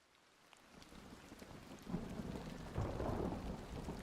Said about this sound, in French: un grand déchirement, un grand craquement ne tarde pas à survenir. Et bientôt, les premières gouttes de pluie viennent vous taper le sommet du crâne.